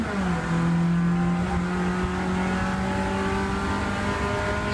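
Race car at a Rockingham trackday working through a chicane, the engine droning loud and close with pitch sweeps as it shifts and steadies, continuous throughout.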